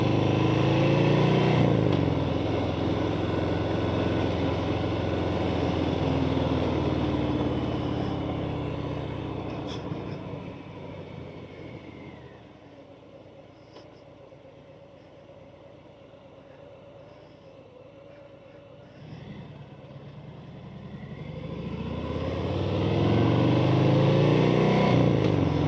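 A Harley-Davidson Softail Fat Bob motorcycle engine gives a deep, steady rumble that is loud at first, dips to a quieter stretch in the middle and swells again as it comes near toward the end, with no speech.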